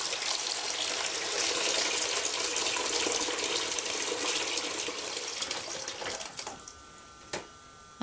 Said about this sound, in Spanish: empiezo a lavármelas y después dejo que se vaya el agua usada. Luego pongo más agua en la pila